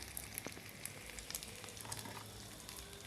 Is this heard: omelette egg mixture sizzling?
yes